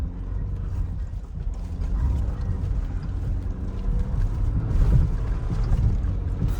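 A lifted Jeep Wrangler Rubicon on 37-inch tires grinds off-road through snow in a low, rumbling drone, its mechanical clatter swelling as the throttle comes on, close and continuous with no talking.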